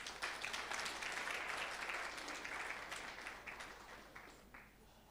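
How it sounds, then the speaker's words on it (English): A conference audience gives a round of applause, dense clapping from a large room that starts strong and gradually thins out over a few seconds, heard faintly. "Give her a round of applause, please."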